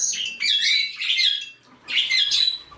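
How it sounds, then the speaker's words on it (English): Pet cockatiels and parrots give shrill, close squawks and chirps in two short bursts separated by a brief lull, with no voices. "I should let my Minnie out screaming."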